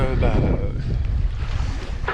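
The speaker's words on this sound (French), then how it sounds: "Et on a du vent" Wind rushing over the microphone aboard a sailboat out at sea on a fine morning, a dense steady roar with some low rumble, and a voice talking briefly near the start.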